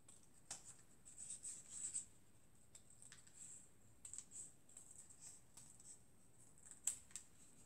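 Scissors snip through paper for a paper-craft miniature wardrobe decoration, a series of quiet, crisp cuts and small crinkles at close range, with soft handling noises between them and no speech.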